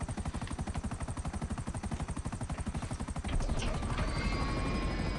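A helicopter in GTA V Online thumps with a fast, steady rotor chop for about three seconds, then gives way to a loud continuous engine roar with a rising whine, close and dominant.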